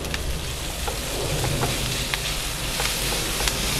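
Ground beef sizzles and crackles steadily in a hot pan over wilted onion and bell pepper, a dense, even frying hiss with small pops scattered throughout and no one talking.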